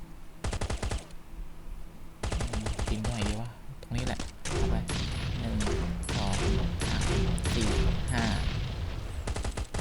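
Rapid automatic gunfire from a shooter-style firearm in the survival video game Last Island of Survival, with loud bursts of shots in quick volleys and short pauses, while someone talks over the firing.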